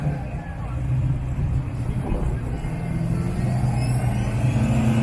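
At a 2024 Roadkill Nights drag event, a Dodge lines up against an all-wheel-drive Jeep. Loud engine rumble and revving roar persist throughout, with commentary talking over the noise.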